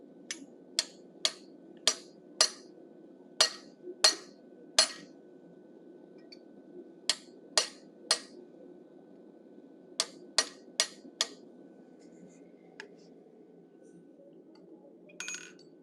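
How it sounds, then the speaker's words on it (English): Sharp metallic hammer strikes drive a pointed punch into hot steel to form bison nostrils, ringing in quick bursts of about six blows, a pause, then further groups of three and four, close and clear over a low background hum. "I'm using the pointed punch for the nostrils."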